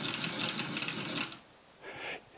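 A sewing machine stitches in a fast, close, rapid clatter that stops abruptly, followed by a brief softer whir, while the jerking thread loses its tension.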